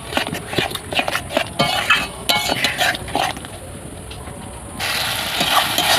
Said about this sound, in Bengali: তো ভালো করে মশলাটা এবার একটু কষিয়ে নেব।